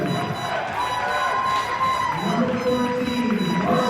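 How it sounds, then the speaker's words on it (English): A large indoor crowd at the 2017 BC grade 9 boys provincial basketball championship fills the gym with a steady, dense roar during starting lineup introductions, with tonal PA sounds rising through it. "There's a large crowd, and it's kind of hard to hear."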